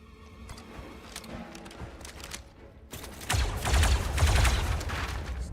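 Gunfire in the tactical strategy game XCOM, played on hard with permadeath: a quieter opening stretch, then a loud burst of rapid shots and impacts from about three seconds on, dense and close, with no talking.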